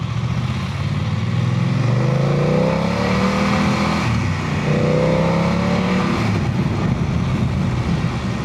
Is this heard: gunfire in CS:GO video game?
no